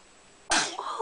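A baby lets out a single abrupt sneeze, close and sharp after a quiet moment, followed by a brief breathy tail.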